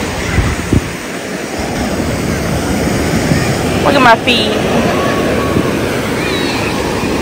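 Ocean waves wash onto a beach on the 4th of July, a continuous surf hiss under gusty wind noise, with people talking nearby over it.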